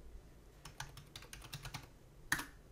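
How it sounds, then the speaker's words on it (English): Keys on a computer keyboard are tapped in a quick run of light clicks while a password is entered at a Linux or Raspberry Pi login, ending in one sharper, louder keystroke. "type in my password"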